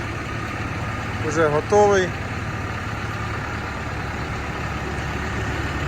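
A BASAK 2110S tractor engine idles steadily throughout, a low continuous drone with a brief spoken phrase over it near the middle.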